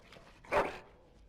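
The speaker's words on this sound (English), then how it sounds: "Bloody dog." Dog in the Dragon Age: Origins video game lets out a single short bark-like whimper, close and clear, around half a second long against quiet background.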